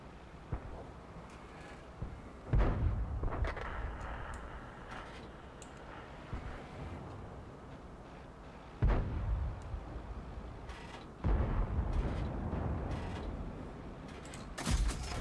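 Tank cannon fire in World of Tanks: a few heavy booming shots spaced several seconds apart, each a sharp loud blast that rumbles off over a steady background of engine and mechanical creaking.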